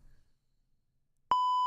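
A censor bleep covers a swear word during a live broadcast aboard the Star of the Seas cruise ship: a loud, steady single tone that starts abruptly after near-silence and a faint murmur, then runs to the end.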